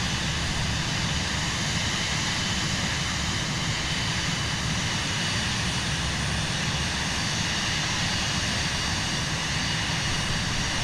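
A Cirrus Vision Jet's engine in Microsoft Flight Simulator 2024 on PS5 drones as a steady, broadband jet roar with an even hiss, holding constant and loud throughout without any voices.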